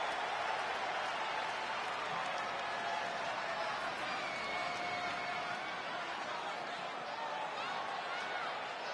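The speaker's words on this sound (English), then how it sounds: "And what about this crowd reaction," Crowd noise from the WWE 2K20 wrestling video game fills the arena as a steady, dense roar of cheering that holds level throughout with no break.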